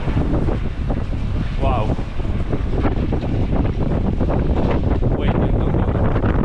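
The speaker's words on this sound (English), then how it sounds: "The blizzard, look at the speed of the wind." Strong blizzard wind in Canada roars and buffets the microphone nonstop, loud and close, with a person briefly exclaiming over the gusts.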